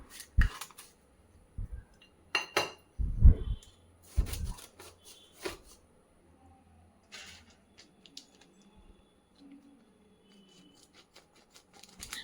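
Scissors crunch through rock salt to sharpen the blades, sharp gritty snips and cracks in irregular bursts, louder early on and then sparser and fainter, with quiet gaps between cuts.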